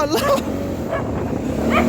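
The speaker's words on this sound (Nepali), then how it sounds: "अरू केही नभए पनि कुकुर चाहिँ टाढैदेखि पट्टिन्छ नै।" A dog barking and yipping nearby during a motorbike ride on a road near the Nepal border, a few short barks over a steady background rumble with a voice briefly present.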